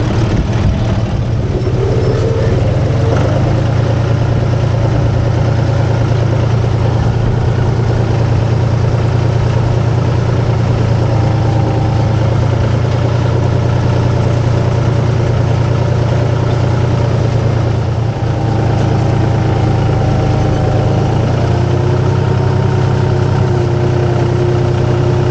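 A tractor engine pulls a Great Plains 706NT no-till seed drill across a field, a steady, loud low rumble running continuously at close range with slight changes in load.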